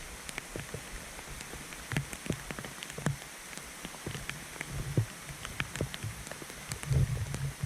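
Heavy rain pours down on a campsite after a thunderstorm in Algonquin, with dense, steady pattering and scattered sharper drops hitting nearby surfaces, moderately quiet and with no voices.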